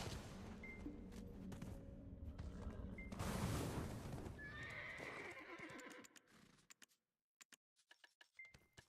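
A horse in a video game whinnies loudly with hooves clip-clopping, then the sound thins out into scattered sharp clicks and brief silences.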